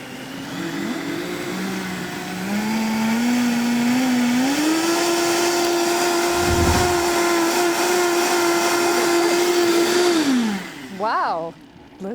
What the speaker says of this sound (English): Let's just blend it for 30 seconds on the high-speed blender.